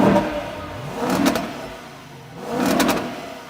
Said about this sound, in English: that engine, which by the way, does sound a little different from the ISF